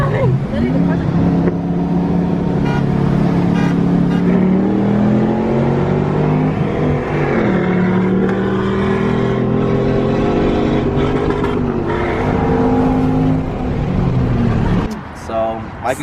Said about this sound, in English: Literally, the cars are coming.